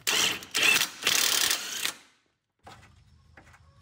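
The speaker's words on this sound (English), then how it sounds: "I'm just gonna run this bolt in loose for now until I have the other three in place." Bolt on a 2002-2008 Honda Fit front suspension being run in loose by hand tool, giving close, rapid mechanical ratcheting bursts over about two seconds, then a pause and fainter clicking afterward.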